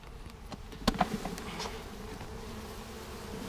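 A dense swarm of honeybees drones steadily up close as a package is shaken into a hive, with a few sharp knocks and rustles near the start before the buzzing settles into a constant hum.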